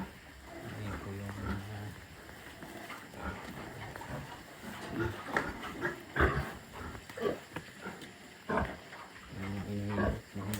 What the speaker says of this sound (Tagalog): Ito'y nanganganak ng baboy.